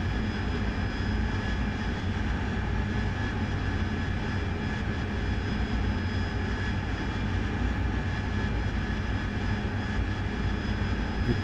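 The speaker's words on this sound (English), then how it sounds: "fly the aircraft, fly the aircraft, fly the aircraft" Continuous aircraft engine drone from a flight simulation game mission, a steady loud roar with a faint high whine held evenly throughout, no voices over it.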